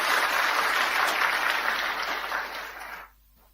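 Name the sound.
church congregation applause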